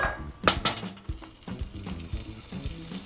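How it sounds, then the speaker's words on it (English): Olive oil and butter sizzle in a stovetop pan as shrimp go in to sauté, with a crackling fry and scattered clinks and scrapes of a utensil against the pan. "So we can just put that in there and just saute it for a little while."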